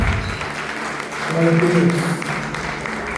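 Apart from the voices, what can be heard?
church congregation applauding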